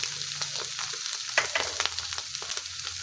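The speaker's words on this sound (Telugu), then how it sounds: "అరటికాయ అంతా కొద్దిగా ఫ్రై అయిన తర్వాత మనం ముందుగానే పప్పు ఉడకబెట్టి పెట్టుకున్నాం కదా కందిపప్పు వేసుకోవాలి" Raw banana pieces sizzling and frying in a pan as cooked toor dal is added, a steady crackling hiss with light stirring scrapes.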